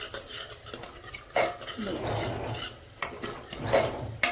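Ridge gourd curry being stirred and roasted in a pan with ghee, a spoon scraping and clinking against the metal in uneven strokes under a low sizzle, no voices.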